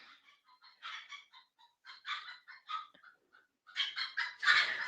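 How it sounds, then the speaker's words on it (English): Chickens cluck and squawk in a rapid, agitated series of calls while a dog chases them, growing louder and more frantic toward the end, with no talking. "Sorry for the chicken, but my dog is chasing them."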